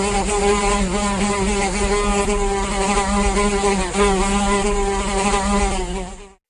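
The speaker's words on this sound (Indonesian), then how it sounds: "Lalat." A housefly buzzes continuously and close by, a steady, raspy drone with slight wavering that holds for several seconds before cutting off.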